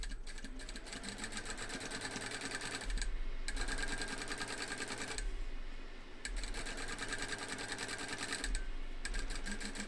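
A sewing machine stitches fabric for a large pouch in steady, continuous bursts, with brief pauses between runs, close and fairly loud, with no talking.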